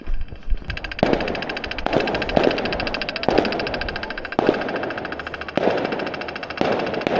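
Rapid crackling bursts of fireworks pop repeatedly in Dutch woods, some cracks sharper and louder than others, going on without a break from a middle distance.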